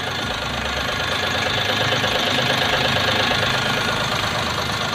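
Car engine running steadily at close range, a continuous loud drone with a faint knocking texture and no talk, heard during a fuel economy test with an oil supplement.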